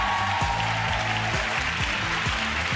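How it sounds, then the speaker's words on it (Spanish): A studio audience at a Spanish-language TV talent show claps steadily, a dense wash of applause that holds at an even level throughout. "Por favor, para ellos, un aplauso, claro que sí."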